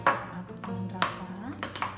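Metal spoon scraping and clinking against a pot of chicken broth seasoned with pepper, salt and turmeric, a few sharp taps and scrapes close by over a low background hum.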